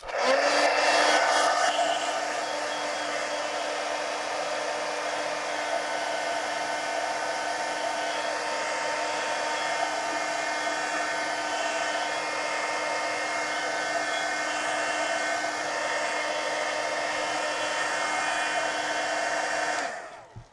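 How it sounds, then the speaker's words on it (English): Heat gun blowing steadily on a drawing of Daryl Dixon: a loud, continuous whirring blast with a high-pitched whine, starting strongly and running unbroken for about twenty seconds before cutting off, with no talking. "Okay, heat gun."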